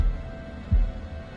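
A heartbeat in the horror game Man of Medan: one deep, muffled low thump stands out over a steady low hum, close and fairly loud, with no voices.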